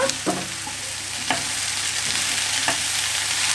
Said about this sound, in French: Mélanger et tout faire cuire.